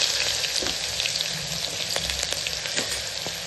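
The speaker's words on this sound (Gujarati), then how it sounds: "હવે અહીં આપણે ડુંગળી ઉમેરી દઈશું" Chopped onion drops into hot oil already crackling with cumin and fennel seeds and asafoetida, for a Kathiyawadi cabbage and potato curry, giving a loud, steady close-up sizzle with sharp pops and spits throughout.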